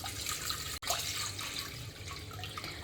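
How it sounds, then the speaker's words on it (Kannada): About five cups of water pour into a cooking pot in a steady splashing stream, close and continuous, broken by one brief gap before the pouring resumes. "5 ಕಪ್ಪಷ್ಟು ನೀರನ್ನು ಹಾಕೊತಾ ಇದ್ದೇನೆ"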